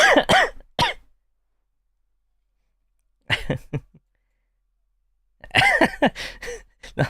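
Three separate bursts of harsh coughing, close by, with long silent gaps between them, from a person during an online sim-racing session; the last burst is a longer, repeated fit.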